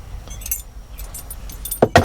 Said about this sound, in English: Another set of keys of some sort.